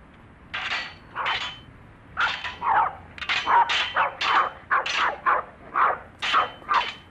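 Several dogs bark in a rapid series of sharp, mid-pitched yaps, fairly close and loud, while a ruler is rattled along a garden fence. No one speaks.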